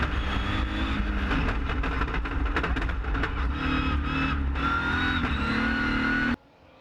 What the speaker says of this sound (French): Et voilà, c'est parti. Nous sommes à bord de la Toyota Corolla de Christophe Sonnois.